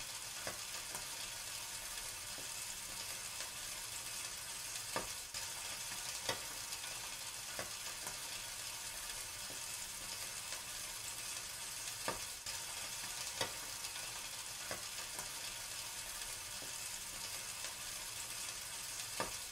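Marinated chicken pieces sizzle and fry steadily in butter in a pan, a continuous close crackle broken by occasional stirring clicks and scrapes, with no talking.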